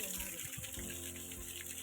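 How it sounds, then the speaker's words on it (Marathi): Waterfall on Salher fort, a steady broadband rush of flowing water that stays constant and fairly faint for the whole moment, with no other sounds standing out. "खूप छान पाणी वाहत आहे"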